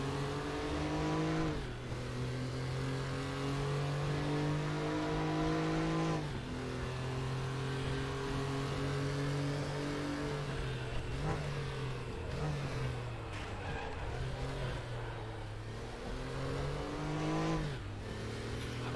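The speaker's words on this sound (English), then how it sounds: "Let the people hear the engine." Porsche 964 Carrera Cup flat-six engine in the RaceRoom racing game, a loud close engine note climbing through revs in repeated pulls, with gear changes and a missed shift, and no talk.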